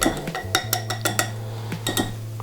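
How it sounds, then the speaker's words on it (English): Whisk clinking and scraping in a bowl as dry ingredients are mixed into wet donut batter, a run of sharp metallic taps over a steady low hum, close by and alone. "whisking in the dry ingredients with the wet ingredients"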